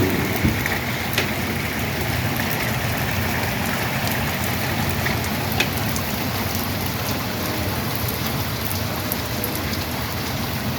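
Steady rain pours down continuously while the sun shines, a dense even hiss with occasional louder drips, no voices.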